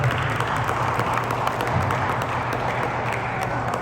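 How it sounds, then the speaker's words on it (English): Steady applause from an audience at a council event honoring a council colleague, a dense continuous patter of clapping held at even loudness throughout, with a faint low hum beneath. "Big round of applause for him."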